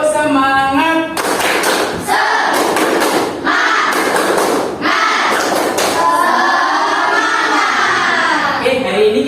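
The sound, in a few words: group clapping, spirit clap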